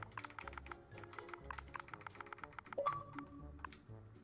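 Rapid clicking of computer keys as a command is typed while building in Minecraft, a close, light and uneven run of taps with short pauses and no talk over it.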